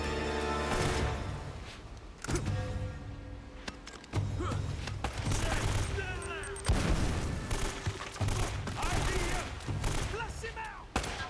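Enemy gunfire in the video game Uncharted: Drake's Fortune, dense bursts of shots and booms running almost continuously under loud game sound, with a player talking over it.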